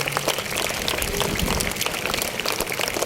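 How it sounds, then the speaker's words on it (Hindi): An audience at a school prize distribution applauds a prize-winning student, dense steady clapping from many hands filling the whole stretch at an even level, with no clear pauses. "राजवीर गुप्ता के लिए एक बार जोरदार ताली बजा देंगे"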